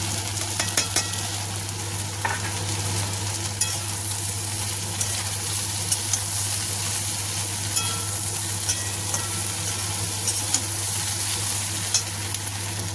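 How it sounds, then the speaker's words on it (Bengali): Okra and onion fried red alongside pre-fried potatoes sizzle steadily in a pan, with a constant hiss and occasional scraping clicks of stirring throughout, no voices. "আমার কিন্তু ভেন্ডি আর পেঁয়াজটা দেখো ভালো করে ভাজা হয়ে গেছে, লাল লাল করে।"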